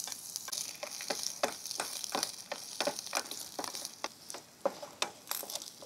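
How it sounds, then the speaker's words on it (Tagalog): Garlic frying in hot cooking oil in a pan, a steady close sizzle with crackling pops and brief scrapes of stirring throughout, no voices. "Lagyan na po tayo ng mantika. Para magisa na natin si bawang."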